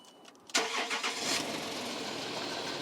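A Range Rover engine cranks and catches, then settles into a steady, fairly loud idle with no talking.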